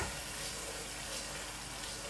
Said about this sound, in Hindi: अच्छी तरह दही को भुनेंगे।